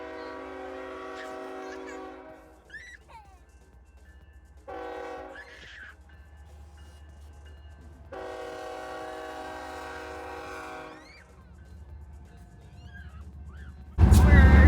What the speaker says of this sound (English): The train runs right by the RV park, so there's some train noise